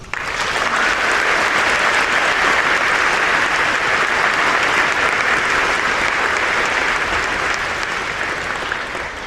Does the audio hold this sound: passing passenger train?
no